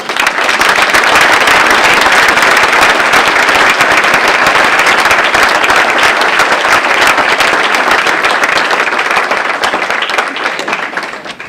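Sustained, dense applause from a seated audience at an awards gathering, steady and loud throughout before easing slightly at the very end.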